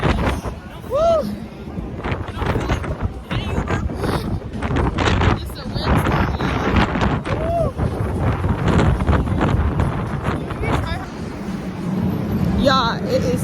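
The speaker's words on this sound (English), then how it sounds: "it is super windy" Strong wind buffets the microphone outdoors during a spring break road trip, loud low rumbling gusts throughout that keep surging and dropping, with people talking over it.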